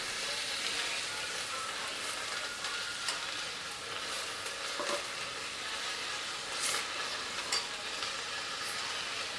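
Chopped fenugreek leaves stirred into a pot of cooking dal, with soft scraping and squishing strokes over a low steady sizzle, close and continuous.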